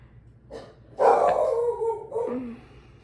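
A dog lets out a couple of whiny, yelping barks nearby, the second trailing off in a drawn-out whimper.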